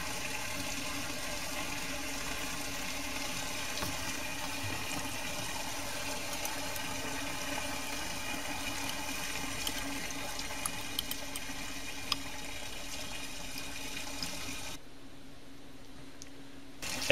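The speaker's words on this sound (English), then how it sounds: "Again, the beaker was washed out with some water." Water runs while a laboratory beaker is rinsed out, a soft, steady splashing stream at moderate distance that stops abruptly near the end.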